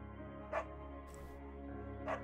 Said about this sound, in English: You pick up the beagle and she names him Bucket